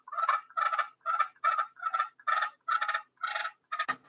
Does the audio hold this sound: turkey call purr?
yes